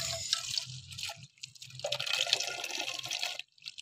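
Water runs steadily into a container, a broad splashing rush that briefly drops out midway, then resumes before stopping near the end.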